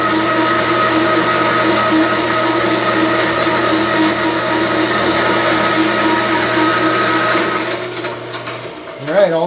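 A saw cuts the stock for a woodworking carriage stop clamp, a steady mechanical whir with rattling, ratchet-like chatter that runs for several seconds before the motor winds down near the end.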